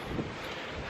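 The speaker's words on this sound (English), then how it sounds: "It is super windy out" Strong wind gusts across a microphone outdoors in a backyard, a steady broadband roar with a slight surge near the start, filling the short moment with no other clear sound.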